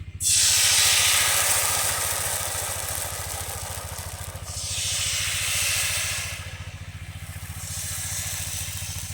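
Thin rice-flour batter for a village pitha hits hot oil in a wok and sizzles loudly in a steady hiss that swells and fades in waves over a low hum, with no talking.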